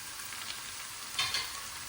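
Carrot, leeks and garlic sautéing in a pan for Sri Lankan kothu roti, a soft continuous sizzle with a brief louder crackle of stirring midway, no talking.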